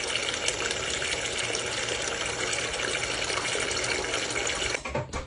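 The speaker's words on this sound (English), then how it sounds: "So I'm going to put water." Water pours steadily into a cooking pot holding cleaned cow earlobe, a continuous loud gushing rush that runs unbroken for about five seconds before tapering and sputtering at the end.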